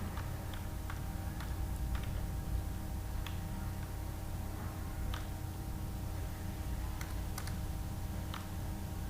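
Code being typed on a computer keyboard, scattered light key clicks at an uneven pace over a steady low hum, fairly faint and without speech.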